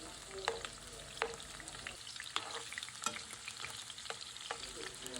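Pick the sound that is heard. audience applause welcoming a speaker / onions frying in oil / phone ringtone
onions frying in oil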